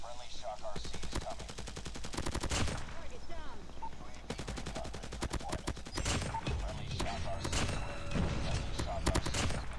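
Rapid bursts of gunfire in a first-person shooter video game, close and loud, with repeated automatic volleys, a short pause and more sustained shooting, while a voice talks over the action.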